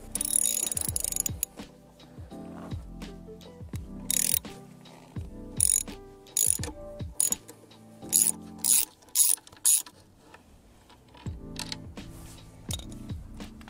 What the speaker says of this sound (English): we're gonna loosen off this bolt so we can get into the second bolt that's holding in the cap underneath